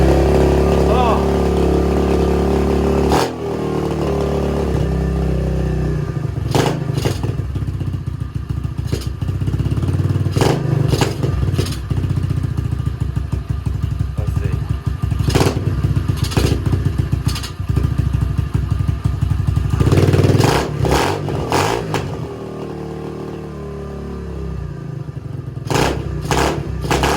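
An SSR 125 pit bike engine, recently fixed after Mikuni carburetor issues, runs steadily and loud close by, with throttle blips and clattering revs rising through the idle, while people talk over it.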